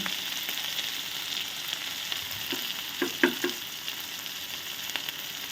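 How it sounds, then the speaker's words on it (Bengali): Ground spice masala fries in a pan, cooking down for a cabbage and fish-head dish, giving a steady even sizzle with a few short stirring scrapes midway. "এবার ভালো করে কষিয়ে নিচ্ছে একটু মশলাটা আমার মোটামুটি ভাজা হয়ে গেছে"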